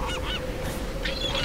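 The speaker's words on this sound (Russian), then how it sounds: "Чайки." Seagulls call in the Tomb Raider (2013) video game, giving a few short honking cries over a loud, steady wash of wind or surf noise.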